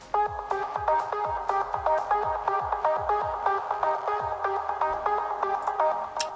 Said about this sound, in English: it's in the form of a simple sort of trance pluck